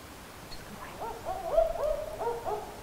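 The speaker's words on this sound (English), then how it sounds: "That's a barking owl." A barking owl call plays from a phone bird guide app: a short series of four or five yapping, dog-like hoots in quick succession, moderately loud against faint background hiss, with no talking.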